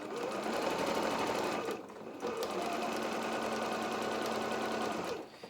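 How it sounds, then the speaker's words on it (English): A sewing machine stitches a cushion made from curtain fabric, running steadily and loudly with one short pause midway before it resumes and slows near the end. "We've just turned the corner, so let's just sew a bit closer down."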